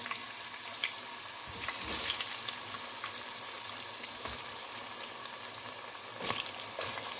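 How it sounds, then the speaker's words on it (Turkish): Steady sizzling of potatoes frying in hot oil, a continuous crackling hiss with occasional louder spatters, no talking. "Bunu iki seferde kızartmayı düşünüyorum."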